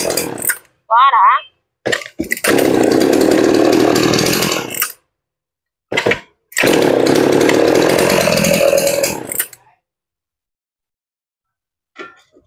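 A used Japanese chainsaw weighing 6.9 kg is revved in two long, loud, buzzing bursts separated by short pauses, with brief voices nearby between the runs.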